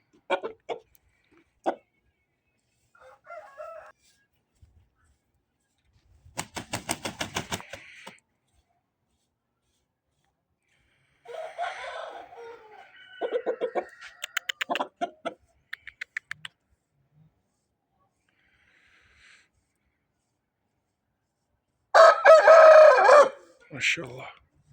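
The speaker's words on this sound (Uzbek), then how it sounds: "Mana xo'roz, obunachilar," A Korean mix breed rooster crows in several loud, close bursts separated by quiet pauses, with a few short clucks in between and the loudest crow near the end.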